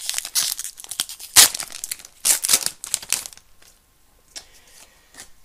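A Pokémon Legendary Treasures booster pack wrapper being torn open, sharp foil crinkles and ripping bursts in quick close clusters, then quieter rustling as it ends.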